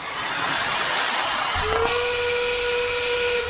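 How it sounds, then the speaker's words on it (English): A loud, sustained endgame whistle blares over a hissing, noisy background at an FTC robotics championship match, holding a steady tone for a couple of seconds. "There's our endgame whistle sound."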